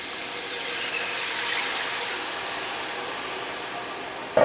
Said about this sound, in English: let's go ahead and add the water and the cider vinegar